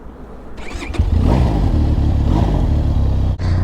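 A 502X adventure motorcycle, the smaller and lower model in a £4999 range, pulls away with a loud engine rising in revs, a steady throaty drone that briefly dips near the end before carrying on, with no talk over it.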